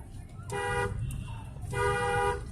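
A car horn sounds twice during a driving lesson, two loud, sustained honks of about half a second each over a low engine and road hum from inside the car.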